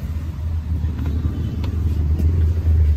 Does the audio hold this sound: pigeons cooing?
no